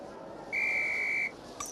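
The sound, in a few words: whistle at flying class, Harry Potter Philosopher's Stone PS1 video game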